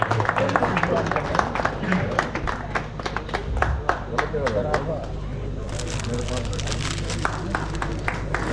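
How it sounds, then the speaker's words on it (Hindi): Audience applause at an All India mushaira poetry gathering, a crowd clapping in a steady dense patter with sharp individual claps standing out, heard under someone speaking through a microphone. "जोरदार तालियों से भाई मंजर साहब का इस्तेमाल।"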